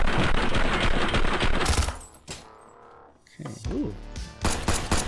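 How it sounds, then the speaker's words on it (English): Rapid bursts of gunfire in the physics-based VR shooter Caedes VR, dense and loud for the first two seconds, then scattered shots returning later, with a man briefly reacting over it. "Who's shooting?"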